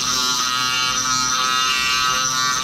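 A rotary tool fitted with 320 grit abrasive sands the exhaust port of a Husqvarna 359, giving a loud, steady high-pitched whine that runs unbroken the whole time with no voices.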